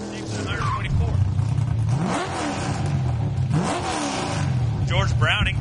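A Camaro hot rod launches down the drag strip at Hot Rod Drag Week 2011 in Great Bend, Kansas. Its engine rises and falls in repeated revving sweeps, loud and steady, beneath an announcer's voice.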